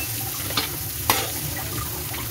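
Onion paste with a splash of water cooking in a pan for a chili garlic cauliflower dish, giving a steady close sizzle with two brief scrapes of a spatula and no voices.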